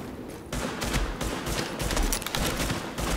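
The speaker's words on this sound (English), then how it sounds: "Focus your goddamn fire." Dense, loud gunfire from The Division video game: overlapping automatic bursts and shots roll on almost continuously with no pause, and no voices are heard.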